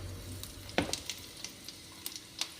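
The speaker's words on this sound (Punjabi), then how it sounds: "ਤੇਲ ਆਪਣਾ ਹੋ ਚੁੱਕਿਆ ਗਰਮ ਆਪਾਂ ਐਡ ਕਰ ਦਾਂਗੇ ਜੀਰਾ" Cumin seeds hit hot oil for a tempering in a cauliflower sabzi, giving a faint steady sizzle punctuated by several sharp crackles and pops, with a stirring sound partway through and no voices.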